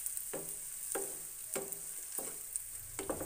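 Chopped vegetables fry in a pan with a soft, steady sizzle, broken by a regular series of spatula scrapes and stirs, each about half a second apart.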